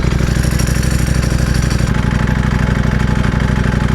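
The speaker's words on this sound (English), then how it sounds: "this bike doesn't like low revs. It's a race bike." A 2020 Ducati Panigale V4R with an Akrapovic race exhaust idles steadily up close, its low, lumpy rumble pulsing evenly throughout without revving.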